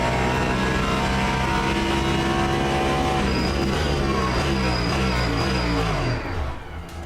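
A race car in Project Motor Racing sits near and loud, its engine held at high revs, then steps down through gears in repeated blips, each downshift spinning the motor up again as engine braking slows it.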